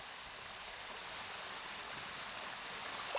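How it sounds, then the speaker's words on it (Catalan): Steady rushing of a flowing stream, a continuous hiss of water close by with no other sounds. "El so de l'aigua ajuda a respirar."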